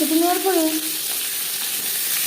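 Peeled, boiled potatoes sizzle in hot oil in a pan with a steady, close, bright hiss. A short voice-like tone sounds near the start.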